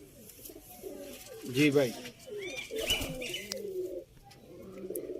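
Sialkoti pigeons, including a female, give soft, rolling coos in repeated short bursts close by, while someone talks over them.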